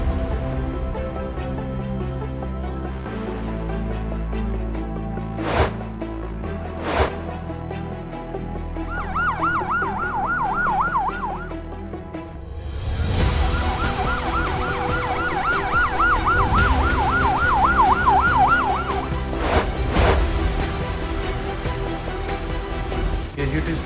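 An ambulance siren wails in a rising and falling cycle during a heat stroke mock drill, first heard alone and then again amid busy commotion, with people talking throughout.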